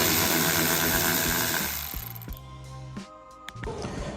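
A hand ratchet backs out a 10mm bolt on a Toyota 4Runner tailgate, giving close, quick clicking ratchet strokes in short bursts over a fading background hum.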